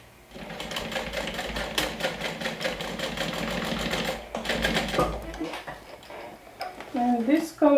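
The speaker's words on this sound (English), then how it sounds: "And now you're going to stitch it down." Sewing machine stitching down a backpack part, running in steady continuous bursts with a brief pause near the middle, close and fairly loud; a voice speaks over the end.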